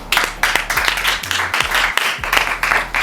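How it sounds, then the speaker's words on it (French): Loud, steady applause from a contest audience, dense clapping filling the whole stretch with slight swells in intensity. "Sous vos acclamations, s'il vous plaît."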